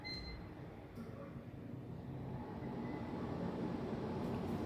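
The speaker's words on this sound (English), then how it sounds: "Sounds like this from your air condition unit." Steady low mechanical rumble and hum, like an air conditioning unit running nearby, continuous and even throughout with no talking.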